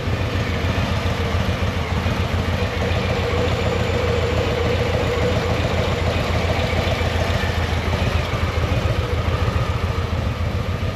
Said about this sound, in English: Right now she sounds like a sewing machine, not how a Harley Davidson should sound